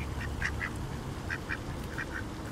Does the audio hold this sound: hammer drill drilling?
no